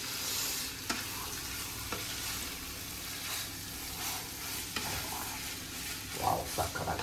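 Korean noodles stirred and mixed in a pan, with soft scraping strokes and a steady low sizzle running throughout, a few sharper utensil knocks near the end.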